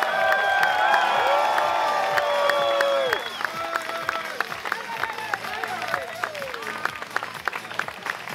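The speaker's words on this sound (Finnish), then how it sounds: "Vielä kerran hurraa huudot voittajalle ja voittajille" A crowd applauds and cheers for the winners at a Helsinki Pride 2011 drag event, with dense clapping, whoops and shouts close by and loud throughout, easing slightly after a few seconds.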